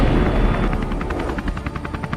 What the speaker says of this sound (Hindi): रोबोट उस हेलीकॉप्टर पर अंधाधुंध फायरिंग कर रहा था